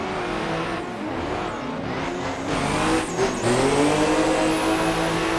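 A car engine revs continuously with rising and falling tones, from a slow drift car in the Assetto Corsa racing game, with tire noise underneath and no talking.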